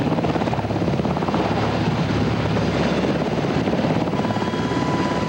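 Loud, steady helicopter rotor wash roars throughout during a parajumper rescue exercise, a dense continuous beating drone with no voices.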